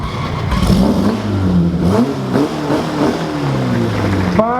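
A Porsche 718 at the Concorso d'Eleganza Villa d'Este 2018 revs its engine close by and then pulls away, rising and falling in pitch through several throttle blips as it drives off, with light crowd sounds around it.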